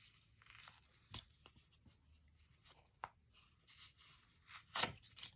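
Card being pulled and torn away from ribbon loops stitched down its center for a Christmas angel ornament; quiet scattered tearing and rustling with a few sharper rips, close and alone.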